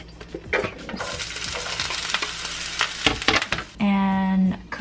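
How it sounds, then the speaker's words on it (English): Sweet potato pieces sizzle and spit in a hot frying pan with scraping and clinking of a utensil, then a brief steady hum near the end. "I'm gonna fry this in the frying pan."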